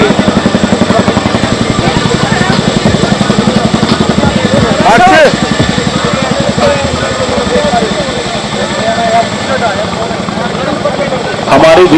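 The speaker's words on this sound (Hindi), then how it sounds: "आज हमारे 2 शिनुक हेलीकॉप्टर दाएं और बाएं जा करके आपके सामने हमारा हेलीकॉप्टर क्या कर सकता है इसकी ताकत का प्रदर्शन करेंगे।" Air Force Chinook helicopters fly over Sukhna Lake during an air show rehearsal, their heavy rotor chop and engine roar loud and steady throughout, with an announcer talking over the top.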